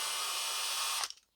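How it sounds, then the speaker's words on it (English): A cylinder hone driven by a drill spins inside the bores of a SOHC turbo Honda Civic engine block, giving a steady, loud whirring grind for about a second before it spins down and stops. "then start spinning with the drill"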